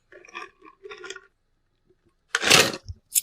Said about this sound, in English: That's my ice clicking